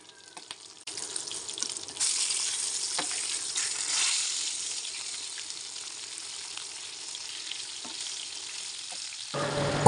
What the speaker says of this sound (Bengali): কই মাছগুলো ভাজা হয়ে গেছে